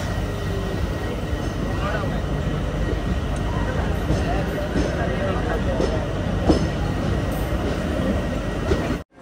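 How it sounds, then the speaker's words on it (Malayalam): Parasuram Express pulling into a crowded Kozhikode railway station: a steady, close rumble of the train with faint clanks and hiss, people talking over it throughout. "കോഴിക്കോട് റെയിൽവേ സ്റ്റേഷനിൽ ഇതാ വണ്ടി വന്നിട്ട്"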